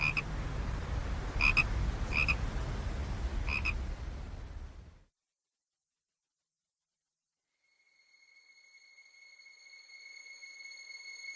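Frogs croak along the bank of the Vistula river: a few distinct pulsing calls rise over a steady wash of background noise, then everything falls silent before faint, thin high tones fade in.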